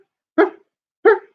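A dog barks twice, sharp and close, with a pause of about half a second between the two short barks and silence around them.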